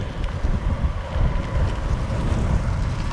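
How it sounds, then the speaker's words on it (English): Steady, roaring wind buffets the microphone during a wet, windy outdoor ride, a continuous low rumble with gusty swells throughout and no voices. "Wet and windy. It's horrible out here."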